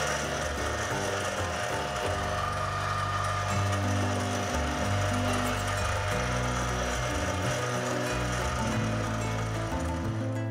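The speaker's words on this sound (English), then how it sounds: "Every time you're using the pasta machine, you go from the widest setting on down to a narrower setting" Steady mechanical whirring and grinding of a pasta machine rolling sheets of dough for lattice-patterned agnolotti, a loud continuous hum with shifting low tones throughout and no talking.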